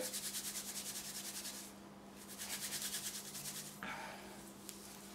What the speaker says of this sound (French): vraiment à masser les cheveux